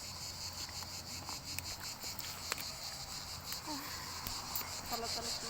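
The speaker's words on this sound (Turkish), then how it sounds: "Ağustos böceklerinden, cır cır cır cır böceklerinden" Dense insect chirring fills the background, a steady high buzz of cicadas and crickets, with a few faint knocks and rustles nearby.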